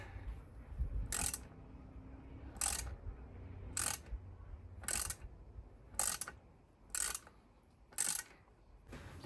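Bolts pushed down and twisted into a new split plastic tub on a Bush washing machine, giving seven evenly spaced sharp ratcheting clicks over a low background rumble, close and moderately loud, with no talk.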